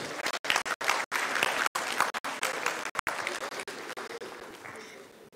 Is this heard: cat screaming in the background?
no